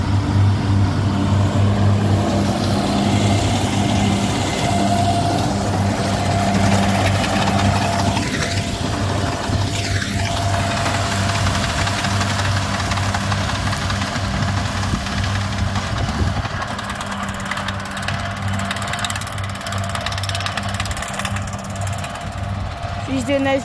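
A John Deere tractor engine runs steadily at close range during silage mowing, a continuous low rumble with a brief easing around the middle and a slightly quieter stretch toward the end.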